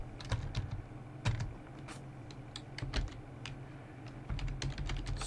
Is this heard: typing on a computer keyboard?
yes